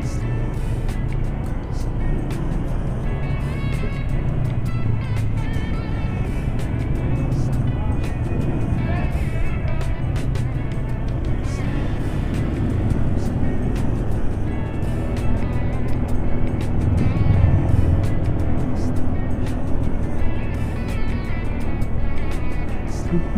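Steady road traffic rumbles past for over twenty seconds, with cars passing at close range in a loud, continuous wash of engine and tyre noise that swells and fades.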